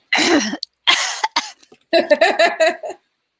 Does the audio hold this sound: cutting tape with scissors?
no